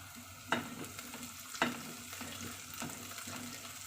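Green chillies frying with garlic and onion in a pan, a soft steady sizzle punctuated by a few sharp stirring clatters, close and fairly quiet, no voices.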